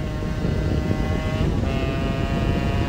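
A Honda NS-1 75cc two-stroke motorcycle riding on an open road, its engine holding a steady, buzzing, harmonic drone that stays close and loud throughout with no pauses.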